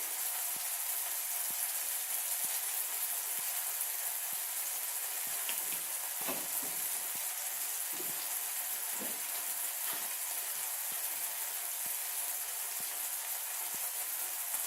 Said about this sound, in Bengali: টমেটোর সাথে মশলাটা আমি কষিয়ে নেব।